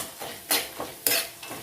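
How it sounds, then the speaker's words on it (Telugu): Garlic frying in a pan for a puffed-rice snack tempering, stirred with a metal spoon: four sharp scraping clinks against the pan at an irregular pace, over a soft sizzle, with no talking. "వెల్లిపాయలు వేసిన తర్వాత కొంచెం మంచిగా ఫ్రై అవ్వాలి"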